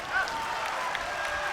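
A crowd at a squash match applauding after a long rally, steady dense clapping heard at a distance under a faint broadcast murmur.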